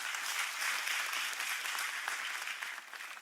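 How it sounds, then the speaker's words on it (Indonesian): Audience applause at a religious sermon, a dense, steady clapping that holds evenly throughout and tapers slightly at the end, with no voices over it. "Yang setuju berikan tepuk tangan yang meriah buat."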